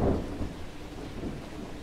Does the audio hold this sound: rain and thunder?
yes